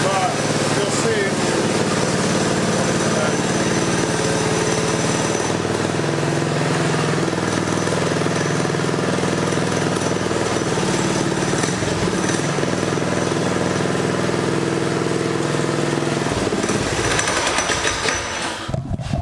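A Coleman CT200U minibike engine idles steadily and loudly up close, a continuous droning putter that runs throughout and tapers off near the end.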